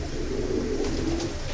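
Silver pigeons at a sale coo in a low, steady murmur that runs throughout the short stretch, moderately loud with no talk over it.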